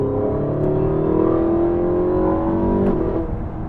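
A Porsche 918 Spyder hypercar accelerates hard from inside the cabin, its engine note climbing in a loud, sustained rising whine with a brief shift-like break near the end.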